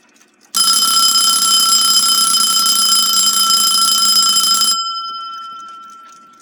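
A Westclox Baby Ben mechanical alarm clock rings in one loud, continuous metallic bell burst lasting about four seconds, then cuts off abruptly and leaves a fading ring.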